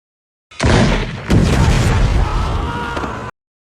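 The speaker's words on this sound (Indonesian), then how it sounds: "Dan ledakan pun terjadi" A loud explosion bursts suddenly, followed by a second blast and a rumbling roar that fades before cutting off abruptly.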